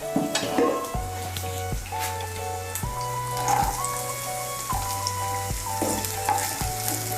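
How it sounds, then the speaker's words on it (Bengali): Chopped beans for fried rice frying in a pan with carrot, a close, steady sizzle broken by periodic spatula scrapes and stirs, no talking. "আমি বিনস কুচিটাকে একটু ভেজে নেব।"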